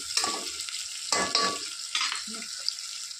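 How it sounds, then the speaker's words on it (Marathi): Onion sautéing in a pan for a simple soybean rice dish, a quiet sizzle broken by several scraping stirs of a spatula, with short bursts of stirring and pauses between them. "आता 2 मिनिटं थोडासा कांदा लाल होईपर्यंत परतून घेणार आहोत."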